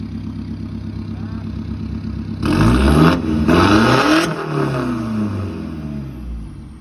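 A 2022 pickup truck engine revved at a used-car lot, idling steadily before sharp throttle blips push it into a loud, rising roar that cuts back and settles to idle again, heard close and alone.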